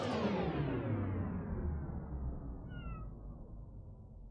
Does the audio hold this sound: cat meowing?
yes